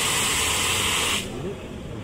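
A water-type AFFF fire extinguisher sprays in a loud, steady hissing jet that cuts off abruptly partway through, leaving quieter background noise.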